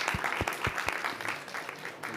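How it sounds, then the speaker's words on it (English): Audience applause for Dr. Sarah Al-Khisham at a pavilion event during the COP 29 climate conference, a few sharp, close claps at first, then a thinner scattered patter that fades. "a big round of applause to Dr."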